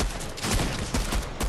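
Fortnite gunfire during a trios match, a quick loud volley of repeated shots packed into a second and a half, close and dense with no voice.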